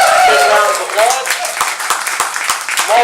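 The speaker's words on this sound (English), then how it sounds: "Big round of applause." A banquet crowd gives a big round of applause for an AMA Motocross Hall of Famer and national champion, clapping under loud voices from the room throughout.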